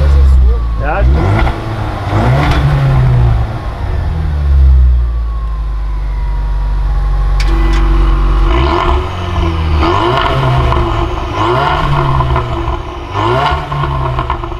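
A Ford Mustang engine with an aftermarket sports exhaust revs and roars up close, rising and falling in strong bursts, with people talking over it.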